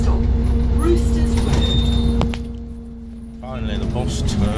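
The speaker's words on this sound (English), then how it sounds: "Finally, the bus turns up at last." A bus pulls up at a stop in Nottingham, its engine rumbling loudly and then easing as it halts, followed by a hiss and the doors opening, with a faint voice nearby.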